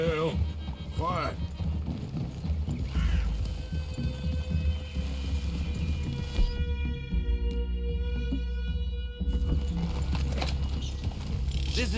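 Horses walk with a steady clip-clop of hooves in Red Dead Redemption 2, the Western open-world video game, heard under a continuous musical score and game sounds.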